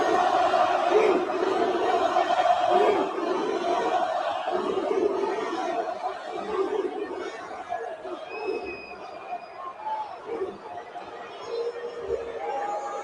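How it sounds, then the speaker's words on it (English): Wrestling arena crowd roaring and jeering throughout, a dense, sustained wall of massed voices with no clear breaks, staying loud from start to finish. "They're booing now."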